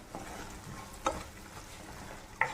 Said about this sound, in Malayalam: പൊടി ഒന്ന് എണ്ണയ്ക്കകത്തൊന്ന് മൂത്ത് വരട്ടെ